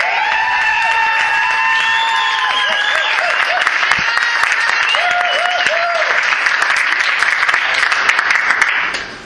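A live tribute-show audience gives dense, sustained applause for the CC Rise, with loud whistles and cheers riding over the clapping throughout.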